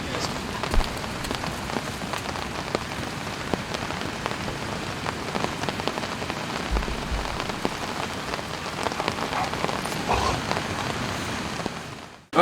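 Steady rain patters on a tarp over a campsite, a dense, continuous hiss of drops lasting throughout at close range, with no talking and only a few brief louder splashes.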